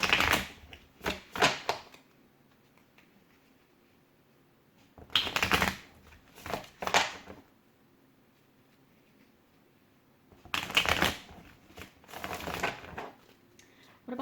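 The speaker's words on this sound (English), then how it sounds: "I'm feeling called to shuffle again for some reason" Tarot cards being shuffled close up, in three separate rounds of riffling and flicking bursts with quiet pauses between them.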